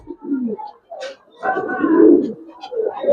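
Pigeons of a racing and flying line, shown as a pair for sale, coo loudly and near in several throaty bursts with short pauses between them.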